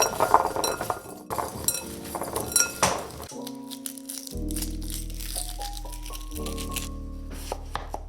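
Cucumber salad being tossed in a bowl, with close clinking and wet clattering of utensils against the dish for a few seconds, then steady musical tones take over.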